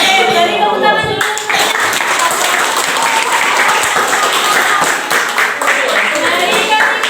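Classmates in a micro-teaching classroom lesson clap steadily for several seconds, a dense, fairly loud patter of many hands with some voices mixed in.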